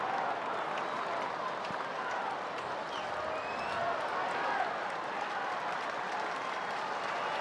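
At Dodger Stadium, during a Giants versus Dodgers baseball game, a large crowd applauds in a dense, continuous roar of clapping that holds steady throughout at a moderate distance.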